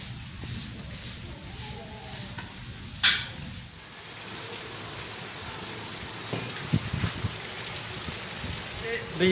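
Steady rain falls outside a house, a broad continuous hiss with occasional louder splashes and a sharp knock, heard close and unbroken throughout.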